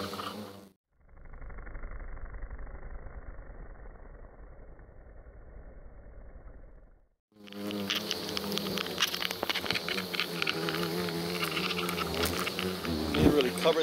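Giant hornets swarm and buzz close around a protective cloth suit sprayed with repellent, a steady drone that cuts out briefly and then returns louder and denser, with rustling and handling noise mixed in.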